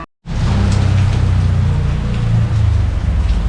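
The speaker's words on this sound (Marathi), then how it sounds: "आमच्या इकडे तर पाऊस पडतोय" Rain falls in a steady, loud, continuous wash after a brief moment of silence, with no voices.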